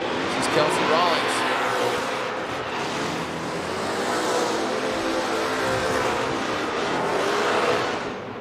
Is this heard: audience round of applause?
no